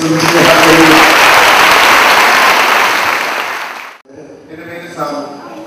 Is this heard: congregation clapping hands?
yes